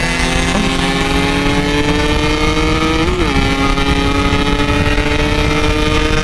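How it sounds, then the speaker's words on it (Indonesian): A BMW 1200 cc motorcycle speeds past on a night street with a loud, steady engine roar, its pitch sliding briefly about halfway through, amid continuous traffic noise. "BMW ini motor kenceng 1200 cc atau 1300 gitu dia"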